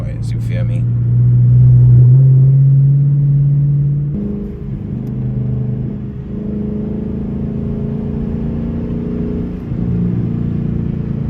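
A straight-piped Dodge Challenger R/T with quad tips and no mufflers or resonators rumbles loudly from inside, with one rising rev and then a deep, steady drone.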